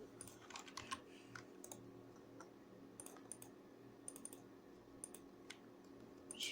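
Keys tapped on a computer keyboard, including the CTRL key, a quiet scatter of soft clicks and short typing bursts at irregular intervals over a low steady hum.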